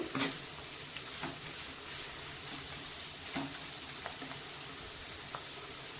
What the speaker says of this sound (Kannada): ಉದ್ದ ಉದ್ದ ಕಟ್ ಮಾಡಿಟ್ಟಿರೋಂಥ ಕ್ಯಾರೆಟನ್ನು ಈ ಥರ ಎಣ್ಣೆಯಲ್ಲಿ ಎಲ್ಲವನ್ನು ಚೆನ್ನಾಗಿ ನಾವು ಫ್ರೈ ಮಾಡ್ಕೋಬೇಕು